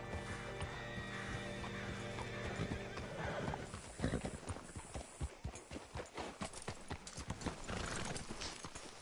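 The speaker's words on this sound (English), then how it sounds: "Hitch your horse up here." Horse hooves clip-clopping in the video game Red Dead Redemption 2, a whinny and a rising tone at first, then a loud, close run of irregular hoof strikes as the horse moves and settles.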